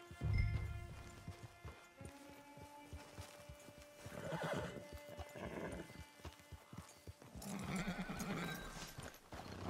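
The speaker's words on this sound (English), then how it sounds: "It's your horse." A horse in the Red Dead Online video game neighs and whinnies loudly, with clip-clopping hooves on and off throughout, alone without talk.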